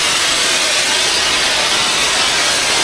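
A pressure washer blasts a steady, loud hiss of spraying water while a deck is rinsed clean of algae, the noise continuous and close throughout with no voices.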